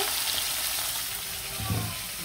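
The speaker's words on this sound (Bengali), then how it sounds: "সবগুলো ইলিশ মাছ দিয়ে দিলাম, ভালো করে ভাজা ভাজা করে রান্না করবো ইলিশ মাছ দিয়ে।" Hilsa fish frying in hot oil in a pan, a steady, dense hiss of sizzling that stays even and moderately quiet throughout, with a faint soft thump midway and no talking.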